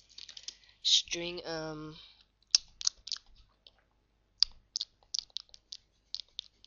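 Code being typed on a computer keyboard, short bursts of close, crisp key clicks with gaps between them, while someone speaks briefly near the start.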